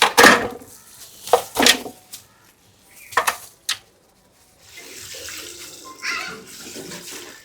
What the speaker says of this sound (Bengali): মাংসটাকে আমি জল পাল্টে বারবার করে ধুয়ে নিচ্ছি